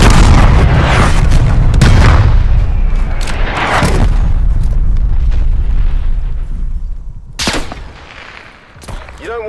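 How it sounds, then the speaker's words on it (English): Artillery shells exploding in a video game battle, a run of heavy, loud booms and crackling blasts close by, thinning out toward the end with a few separate sharp hits. "Artillery inbound."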